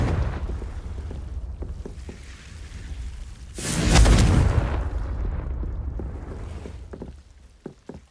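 The Confringo blasting spell from the Hogwarts Legacy game bursts in a loud, booming explosion midway through, over a continuous rumbling game backdrop with a few sharp knocks near the end.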